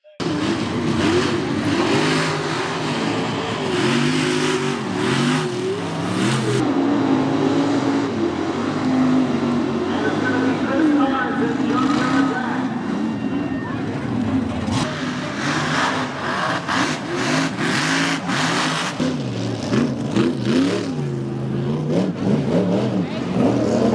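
Race cars at Virginia Motor Speedway roar past in a continuous loud drone of engines rising and falling as they circle the oval, with a commentator talking over the racing throughout.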